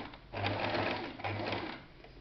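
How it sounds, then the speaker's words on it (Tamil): Sewing machine at a tailoring class stitching slowly under pedal control, two steady whirring bursts with a short pause between, close and alone. "நீங்கள் பெடலை அழுத்தி மெல்ல ஸ்லோவாக தைச்சா போதும் தைக்கலாம்"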